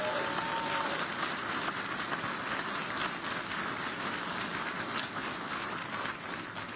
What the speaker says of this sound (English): Please give her an incredible round of applause.